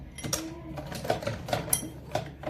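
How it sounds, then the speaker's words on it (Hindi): A sewing machine runs stitches along a folded fabric strip during a home tailoring lesson, giving several short, rapid bursts of mechanical stitching at close range with brief pauses between them and no talk. "और अब आपको सिलाई लगानी है।"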